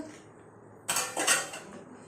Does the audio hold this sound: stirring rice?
yes